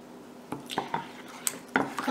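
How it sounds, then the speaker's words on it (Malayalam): Leftover-rice batter for Kannur-style neyyappam mixed in a bowl, with a spoon clinking and squelching through it in uneven, quick close strokes, fairly quiet, with no talking. "എന്നിട്ട് ഇത് നന്നായി മിക്സ് ചെയ്തെടുക്കാം."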